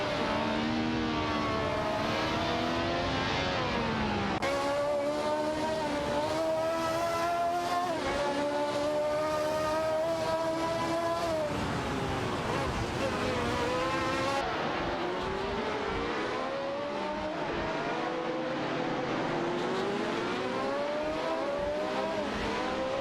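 Race cars in an AI racing game, including a Penske PC1 and a Ferrari 312T, scream along with steady high engine whine, rising and falling through gear shifts as several cars run close together.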